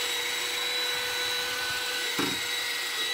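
A power drill with a wire wheel whines at a steady pitch with a scratchy, abrasive scrubbing texture on a BMW E34 sub-frame, loud and close, briefly bogging down partway through.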